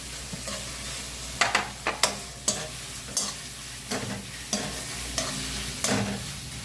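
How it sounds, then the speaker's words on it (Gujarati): Three large peeled onions drop into hot oil with cumin seeds for a Gujarati eggplant dish, sizzling steadily under repeated close spoon clatters and stirring scrapes. "જીરું થઈ ગયું ને તો આપણે આ 3 મોટા કાંદા છોલેલા હતા એ નાખીએ છીએ"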